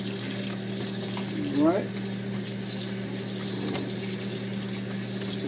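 A kitchen faucet runs cold water steadily while peppers are washed for Jamaican pickle pepper sauce, a constant close rushing hiss under a low hum, with a brief rising squeak and a short spoken word from a man.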